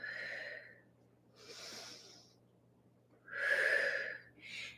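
Sharp, breathy exhales come in two or three bursts during a kettlebell workout, with quieter inhales between them. The breathing is close and fairly loud, with no talking.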